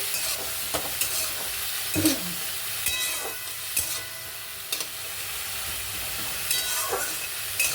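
Chopped vegetables with salt frying in a pan while cooking chirer polao, a steady hiss of sizzling broken by repeated scraping and stirring strokes.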